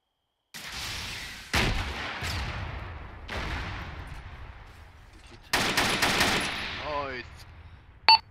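Video game guns fire in several loud bursts: rapid crackling volleys that start abruptly, trail off, and return in a denser rattling run near the end.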